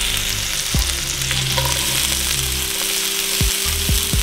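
Chopped onions sauté in butter and sesame oil in a hot pan for chicken fried rice, giving a loud, steady sizzle with a few sharp clinks of a utensil against the pan near the end.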